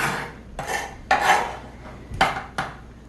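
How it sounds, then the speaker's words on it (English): Knife chopping through cabbage on a cutting board, five separate crunchy cuts spaced irregularly, close and moderately loud with no talking. "Alright, so I'm going to get the rest of this cabbage cut up."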